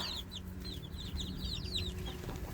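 Young chickens about two months old, roosters and hens, clucking and chirping in short, repeated calls from a small flock at moderate distance, over a low steady background hum.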